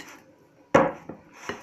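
A utensil clinks against a bowl while gelatin is stirred into warm chocolate cream, giving a sharp close tap followed by two lighter knocks.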